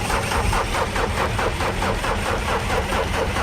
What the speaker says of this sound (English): the engine refusing to turn over.